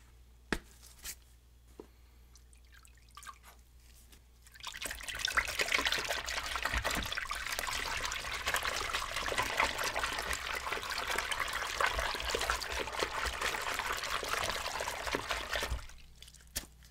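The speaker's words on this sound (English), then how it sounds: "Let's get our soapy water." Soapy water for cleaning NES console parts is poured and sloshed in a steady, close, continuous liquid wash that lasts about eleven seconds, set between quieter stretches with a few faint clicks and handling sounds.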